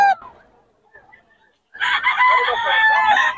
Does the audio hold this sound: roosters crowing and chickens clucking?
yes